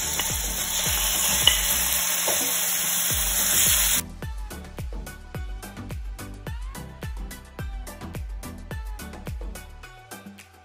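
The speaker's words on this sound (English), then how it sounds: "Now you're going to add your chicken breast to your frying pan." Chicken breast going into hot cooking oil in a frying pan, a loud steady sizzle that gives way to a run of regular scraping stirs and taps.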